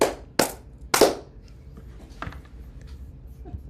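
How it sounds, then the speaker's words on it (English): Two sharp hand claps close together at the end of a Hawaiian chant or prayer, followed by faint room noise and a few soft knocks. "And 2 claps to close."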